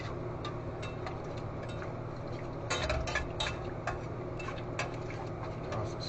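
A whisk beats flour and whole milk together for Southern sausage gravy, making a steady run of light metallic ticks and clinks against the pan, fairly close and even in level, with no talking.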